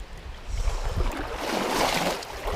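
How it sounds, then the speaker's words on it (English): Steady rain hissing and pattering nearby, a broad continuous wash at moderate level that swells slightly, heard outdoors while fishing during a thunderstorm, no talking. "I hear all the rain over there."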